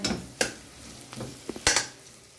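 Garlic, onion and meat sizzle in a pan with a soft, steady hiss, broken by a few sharp clinks and scrapes of a utensil stirring against the metal.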